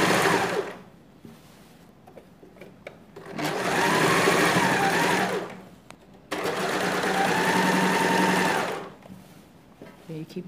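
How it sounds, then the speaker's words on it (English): A sewing machine stitches a back stitch on a dress with facing, in two long, steady, close whirring runs separated by a short pause and light handling. "Then I sew back stitch."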